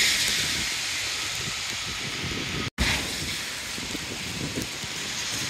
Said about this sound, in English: Yeah, the rain's bucketing down.